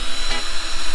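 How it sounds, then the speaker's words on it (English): A power drill bores holes into the metal bodywork of a budget van conversion, a loud, close, high-pitched whine that holds steady through the brief burst. "So I've got to drill holes, four holes in the bodywork."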